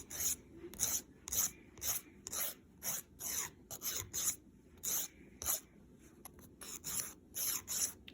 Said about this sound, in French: On lime pour avoir la bonne forme.